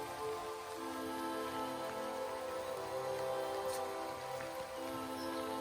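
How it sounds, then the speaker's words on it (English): Steady rain falls on a forest trail in Allegheny National Forest, a continuous close hiss of drops with no talk. "You can see we're in a lot of rain today."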